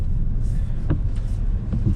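Renault Clio V facelift driving, a steady low road and engine rumble from inside the cabin, continuous and fairly loud with faint brief rattles.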